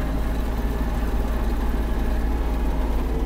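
Kubota GL-320 Japanese mini tractor with its engine running, a steady close low rumble that holds without change for a few seconds while the tractor turns in place.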